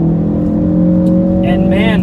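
Turbocharged engine of a 2017 Ford Focus RS hums steadily from inside the cabin and then rises in a quick rev toward the end, with talking over it.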